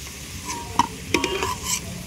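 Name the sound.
potatoes frying and being stirred in pan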